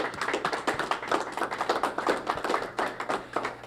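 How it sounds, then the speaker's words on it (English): A small gathering at a football press conference lunch in a steakhouse claps for the host, with distinct individual handclaps in a brisk, uneven patter from nearby. "let's give Mr. Tony Dowell a round of applause"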